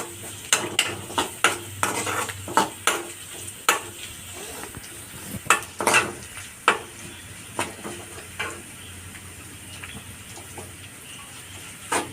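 Raw papaya pieces are stirred into pickle masala in a pan, the spoon knocking and scraping against the metal in sharp, irregular clinks over a faint sizzle, with no voices.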